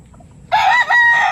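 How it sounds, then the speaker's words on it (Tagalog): A farmyard rooster gives one short, loud crow close by, rising sharply out of near silence and holding for under a second. "Oh, nagpakitang tilaok ka pa."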